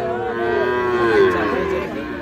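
A young heifer calf at a cattle market gives one long, close moo that swells and bends in pitch, with a low murmur of the market behind it.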